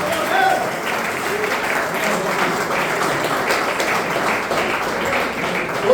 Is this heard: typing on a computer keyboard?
no